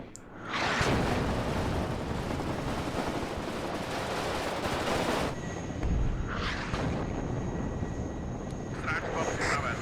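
Gunfire and aircraft noise from the WARNO real-time strategy video game, a dense loud rumble of engines and shots filling most of the clip, with brief radio-style voices near the end.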